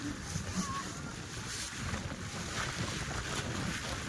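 Strong wind at Saputara Table Point on a rainy hilltop, a loud, continuous roar of gusts buffeting the microphone with no clear voices.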